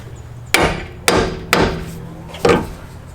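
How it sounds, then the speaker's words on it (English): A hammer taps a tie rod end out of a steering knuckle, striking four sharp metallic blows at uneven intervals, each ringing briefly before fading. "you can simply just tap on the bottom of this with a hammer"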